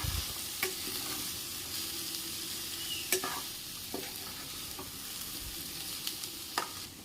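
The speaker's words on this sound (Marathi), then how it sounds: "हलवून घेऊया याला. मसाला आणि हळद याला एकजीव करून घेऊया." Fresh turmeric being stirred with masala in a hot pan, a continuous sizzle and fry with occasional sharp scrapes and clinks of the spoon against the pan, no voices.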